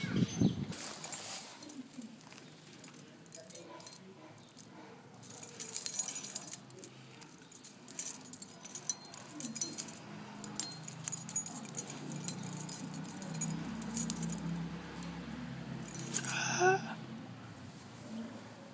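Keys jangle for a cat indoors in bursts of metallic jingling and rattling, loud and close, with pauses and some rustling between shakes.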